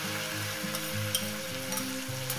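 Cumin and spices sizzle steadily in a hot pan with chopped banana blossom, a continuous close frying hiss with faint stirring scrapes and no voices.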